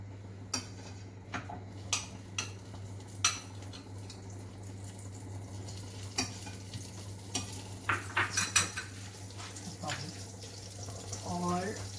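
Butter melts and sizzles softly in a pan with steamed rice for a sizzler dish. Light tapping and scraping of utensils against the pan punctuate a faint, steady frying hiss.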